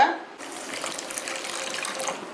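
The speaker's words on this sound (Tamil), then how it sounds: "இந்த அரை கப்பு சக்கரை கூட கால் கப்பு தண்ணி சேர்த்துக்கோங்க" A quarter cup of water poured onto half a cup of sugar in a home kitchen while making a quick milk-powder sweet: a steady, splashy liquid stream that starts abruptly and runs continuously, moderately loud and close.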